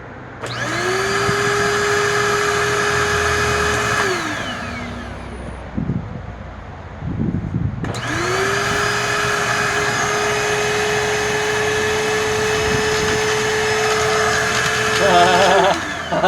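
A Dirt Devil Purpose for Pets upright vacuum cleaner with a burning belt runs loud and close in a steady whine, cuts off for a few seconds of clatter, then spins back up and drones on.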